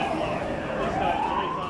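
An ambulance siren wails at a Melbourne street crash scene where the injured are being taken to hospital; one steady, slowly rising tone sounds loud and close over traffic noise throughout.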